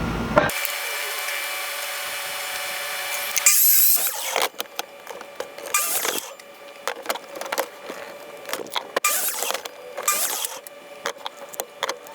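A power tool cuts through wood for a DIY propane fire pit in short bursts, with a steady whine at first and then intermittent grinding passes and pauses between them.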